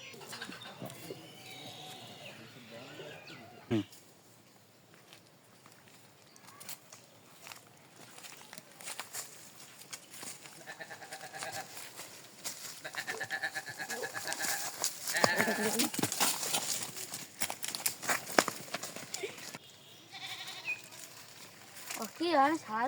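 Goats bleating in a village setting, scattered bleats rising here and there while several people talk and shout over them, growing busier toward the end.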